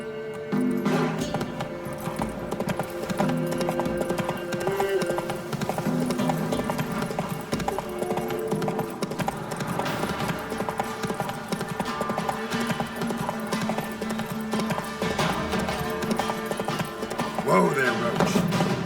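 Horse Roach's hooves clip-clop in a steady rhythm in The Witcher 3 game, mixed with game music and ambience throughout.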